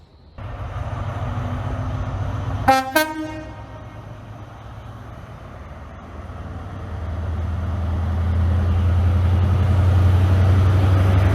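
A train arriving at a station on the Edinburgh to Linlithgow line, with a sharp two-note horn blast early on over loud rumbling, and the rolling engine noise swelling as it pulls in. No talking.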